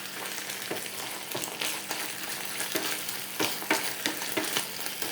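Fish pieces fry for a pizza in hot oil, giving a steady close sizzle broken by sharp pops and spatters, with no talking.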